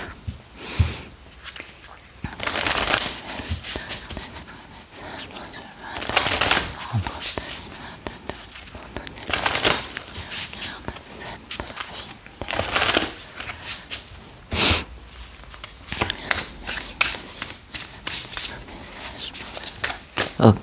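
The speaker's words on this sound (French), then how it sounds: "quelques cartes de l'oracle de la destinée de Lucy Cavendish" A Lucy Cavendish oracle card deck is shuffled by hand in repeated brisk bursts of crisp riffling and flicking, with short quiet pauses between rounds, close up and fairly loud.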